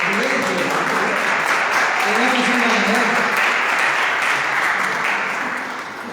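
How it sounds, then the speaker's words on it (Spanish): Audience applause at a Bible workshop for teens and young people, a steady clapping crowd heard close and loud with someone talking over it, tapering slightly at the end. "Fuerte el aplauso, claro."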